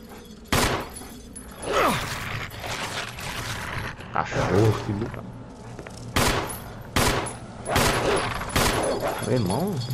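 Gunfire in the Resident Evil Remake video game: several sharp, loud shots ring out at irregular intervals, mixed with mechanical clicks and creature noises, while someone talks excitedly in between.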